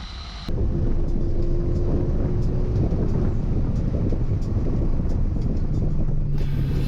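A race car on the Mid-Ohio track during a Time Attack session roars steadily from inside the cabin after an abrupt start, with a loud continuous engine drone and a faint whine throughout.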